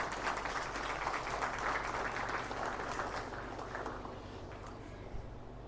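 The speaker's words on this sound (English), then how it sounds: "So let's give all three of these ladies a round of applause" An audience at a Highland cattle junior showmanship event claps for several seconds. The clapping is fairly quiet and tapers off toward the end over a low, steady background hum.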